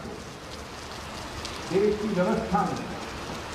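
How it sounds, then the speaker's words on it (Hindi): Heavy monsoon downpour drumming steadily on surfaces around a seated outdoor crowd in India, a constant wash of rain under a man's speech. "इस मूसलाधार बारिश में आप बैठे हैं"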